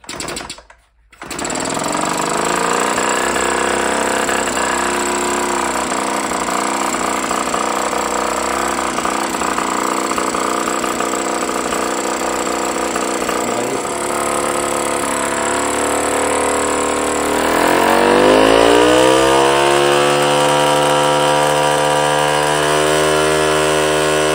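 A small engine fitted with electronic ignition fires up after a brief pull and then runs loudly and steadily at close range, its pitch climbing as it revs up toward the end.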